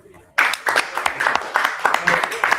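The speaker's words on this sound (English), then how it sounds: "clap it up" Audience clapping at a Purim feast in a hall on 125th Street, New York: a burst of applause starts after brief quiet and carries on as uneven, fairly close hand claps, with voices mixed in.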